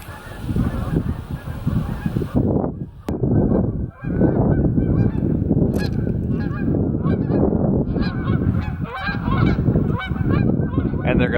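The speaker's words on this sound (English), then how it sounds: "Sounds like this flock's coming back." A returning flock of geese, nervous because of trucks nearby, honks in a loud, continuous clamour of overlapping calls from start to finish.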